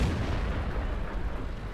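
A steady low-frequency rumble and dense booming wash fills the scene from an M4 Sherman fitted with a 105mm HE gun in World of Tanks; individual shots do not stand out clearly, and no voices are present.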